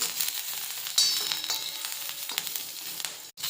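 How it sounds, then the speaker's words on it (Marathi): Green chillies, ginger and garlic fry in a little oil, giving a steady close crackling sizzle with sharper spits throughout; no voices. "मिरची भाजत असताना थोडंसं तेल घालायचं आणि त्यातच आलं आणि लसूणसुद्धा भाजून घ्यायचे"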